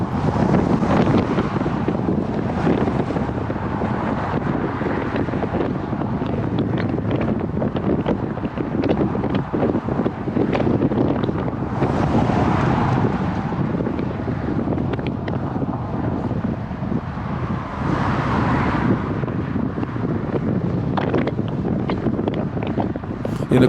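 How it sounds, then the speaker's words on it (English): Strong gusting wind buffets the microphone of a rider cycling on a road shoulder, a loud, constant roaring rush that swells and eases in waves throughout, with no one speaking. "The wind is really pounding"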